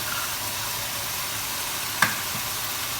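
Prawn fried rice with scrambled egg sizzling in hot oil in a pan, a steady close frying hiss with a single brief clink of a utensil partway through.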